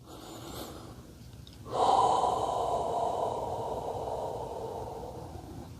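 Someone breathes deeply while holding a hamstring stretch, making a long, audible airy exhale close to the microphone after a quieter inhale, with no talking.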